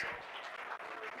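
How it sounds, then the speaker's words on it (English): Audience applause at a cannabis genetics conference in Las Vegas, a steady dense wash of clapping from a crowd filling the whole moment without pause. "Round of applause for Angel and MyFloraDNA, please."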